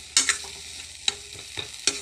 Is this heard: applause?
no